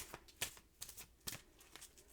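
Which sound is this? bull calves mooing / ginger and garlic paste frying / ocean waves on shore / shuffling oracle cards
shuffling oracle cards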